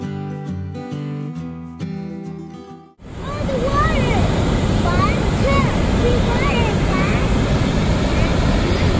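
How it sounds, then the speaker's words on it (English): A steady, loud roar of rushing water at the Lower Falls in Yellowstone National Park follows a short stretch of music, with voices talking faintly over the continuous noise. "So we are going to be seeing the waterfall closer."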